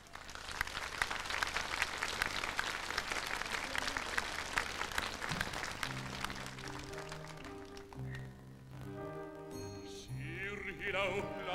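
Audience applause for a singer, dense clapping for about six seconds that fades as sustained musical tones from the accompaniment begin and carry on.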